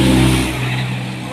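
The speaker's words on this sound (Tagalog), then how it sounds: "Bakit ang daming motor doon?" Traffic with many motorcycles on a road, a steady close engine drone that holds loud and even throughout the short stretch, with no voices over it.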